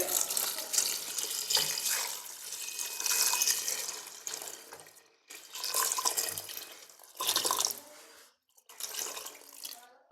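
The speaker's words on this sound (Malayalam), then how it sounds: "ഇനി ആവശ്യത്തിന് വെള്ളം ഒഴിച്ചു കൊടുക്കാവേ" Water runs and splashes steadily in bursts into a cooking pot of sambar, pausing briefly between pours, close and fairly loud with a hollow, filling quality.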